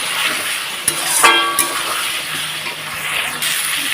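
Radhuni spice frying in oil in a pan for a Bengali potato and pointed gourd fish curry, a loud continuous sizzle and crackle close up, with a few sharp metallic clinks from stirring.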